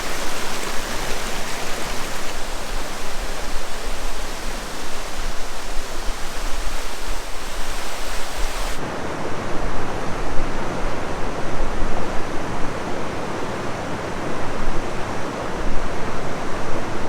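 Constant roaring rush of a waterfall in the Cirque de Gavarnie, dense and loud throughout, with a sudden shift in tone midway, no speech.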